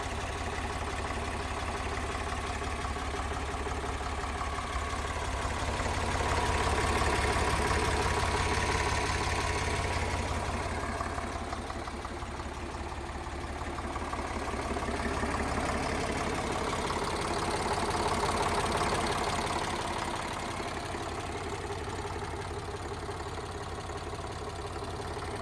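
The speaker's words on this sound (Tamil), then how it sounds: "ஒரு ஏர் கூல்டு இன்ஜினுங்க ஈச்சர் 485ன்றதுனால." Air-cooled diesel engine of an Eicher 485 tractor idling steadily for the whole stretch, a continuous low rumble with slight swells in loudness, close by and without talk.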